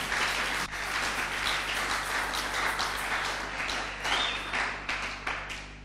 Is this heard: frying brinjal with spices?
no